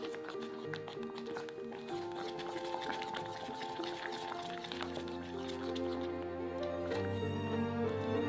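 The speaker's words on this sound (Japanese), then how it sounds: "ゴムベラで練るようにしっかり混ぜ合わせてください。" Soft, sticky squelching and scraping of a rubber spatula kneading thick mizu-manju dough in a bowl, steady and close, with faint background tones.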